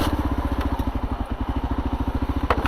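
A 2022 KLR650 motorcycle creeps along a single track in low gearing, its single-cylinder engine thumping in a fast, even pulse close to the microphone, with a faint clatter now and then and no talk.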